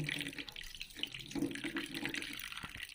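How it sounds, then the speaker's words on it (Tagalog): Bagoong being rinsed under a running kitchen tap, a steady close splash of water into a sink that runs unbroken for a few seconds with no talking. "Guys, hugasan natin yung bagoong."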